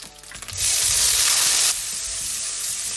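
Shrimp tipped into hot oil with sausage in a wok sets off a sudden loud hissing sizzle that holds for about a second, then settles into a quieter, continuing fry close by.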